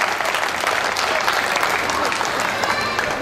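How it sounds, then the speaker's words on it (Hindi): Loud, steady applause from a large audience at a Hindi poetry recital fills the whole stretch, dense and continuous with no pauses. "बहुत जोरदार तालियां बजाकर उन्हें बुलाइए"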